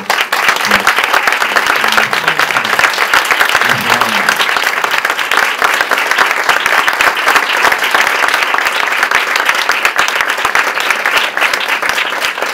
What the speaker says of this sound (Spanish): pido un aplauso de reconocimiento